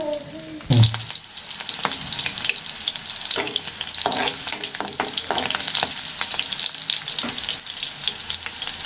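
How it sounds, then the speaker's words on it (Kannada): Garlic drops into hot oil with a sudden loud crackle, then settles into a dense, busy sizzle with popping spatters and occasional stirring, close and continuous. "ಈ ಥರ ಬೆಳ್ಳುಳ್ಳಿನ ಜೇಸ್ಕೊಂಡು ಇಟ್ಕೊಂಡಿದ್ದೀನಿ. ಎಣ್ಣೆ ಒಳಗೆ ಹಾಕೊಳ್ಳೋಣ."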